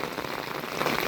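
Heavy rain pouring down on an August evening, a dense, steady hiss of drops striking surfaces, loud and continuous with no voices.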